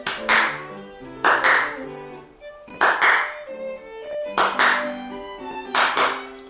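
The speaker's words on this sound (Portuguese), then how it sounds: "dar as palmas, bater as palmas com um intervalo de 200 milissegundos" Hand claps spaced 200 milliseconds apart for a microcontroller systems lesson, heard as sharp, close claps mostly falling in quick pairs, repeated about every second and a half, with faint steady tones ringing between them.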